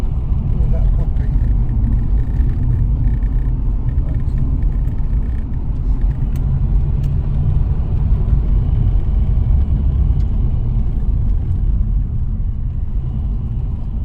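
Nissan Skyline R34 GTR V-spec driving down a high street, heard from inside as a steady, loud low engine and road rumble with no break and no talk.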